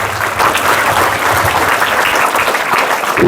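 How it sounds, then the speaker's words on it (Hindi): An audience at a school AI awareness program bursts into loud, steady applause to welcome a guest, dense clapping close by that holds throughout. "जोरदार तालियों के साथ स्वागत किया जाए।"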